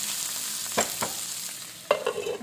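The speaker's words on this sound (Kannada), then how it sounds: "1 ಸ್ಪೂನ್ ಎಳ್ಳು ಹಾಕ್ಕೊತಾ ಇದ್ದೀನಿ ನಾನು" Sesame seeds fry in a pan with a soft, continuous sizzle, and a few sharp stirring clinks and scrapes sound close by. Nobody speaks.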